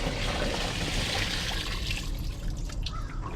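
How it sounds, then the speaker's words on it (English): Water pours steadily into a washing machine drum for laundry, a continuous loud rushing and splashing that fills the whole stretch with no talk over it. "now let's get the water in here and let's get it started."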